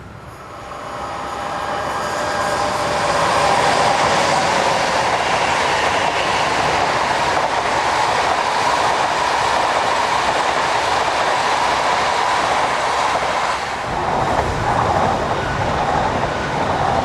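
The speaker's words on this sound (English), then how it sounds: "The Class 143 operated commuter service is seen on the main passenger line running down the west bank of the river." Class 143 commuter train running along the main passenger line on the west bank of a river valley, a loud, sustained rumble with rail clatter that builds early and holds steady throughout.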